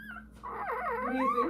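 A puppy whimpers in a run of high, wavering whines, close and fairly quiet, with a thin squeal that rises and falls, alone.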